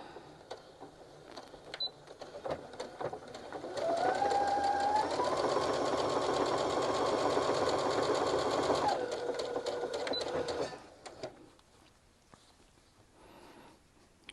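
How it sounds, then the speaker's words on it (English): A sewing machine stitches seam tape onto quilt star blocks, running in one steady, close burst of several seconds with a slight pitch shift midway, framed by quieter handling noises before and after. "I'm just going to start sewing using my seam tape"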